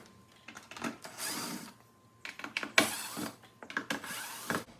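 A drill backs the captive screws out of the engine air filter box on a 5th-generation 2019-2026 Ram 1500, heard as several short, close whirring bursts separated by brief pauses.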